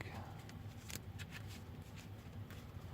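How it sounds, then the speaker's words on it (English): A deck of CardFight trading cards is shuffled quietly at close range. The soft riffling is broken by several crisp, brief card snaps. "Shuffle the deck."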